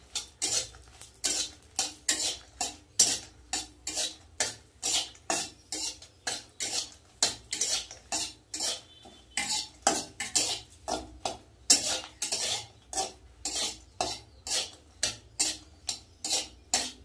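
Dry red chillies being stirred and roasted in a dry pan, with a regular rhythm of scraping, clinking strokes of a utensil against the metal, close and distinct, repeating evenly with no talking.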